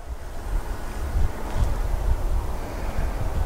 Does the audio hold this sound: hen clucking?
no